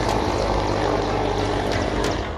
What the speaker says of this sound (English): The chopper can be seen and heard roaring overhead